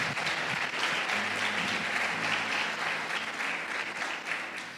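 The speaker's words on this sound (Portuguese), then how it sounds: "Pode aplaudir ao Senhor." A church congregation applauds during a conference service, with dense, steady clapping from a large crowd that fills the room evenly, moderately loud and without speech.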